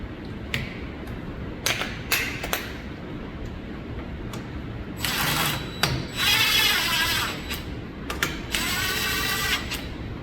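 A wrench spins down the bolts on a 2017 Yamaha 9.9 outboard during a general service, with rapid mechanical clicking and ratcheting in several bursts, the busiest stretch coming toward the end.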